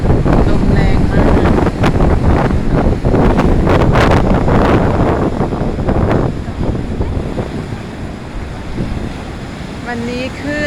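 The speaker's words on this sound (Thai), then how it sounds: "ลมแรงมาก" Strong wind in a storm at the Hin Ta Hin Yai coast batters the microphone with loud, gusty roaring over crashing surf, easing off slightly toward the end.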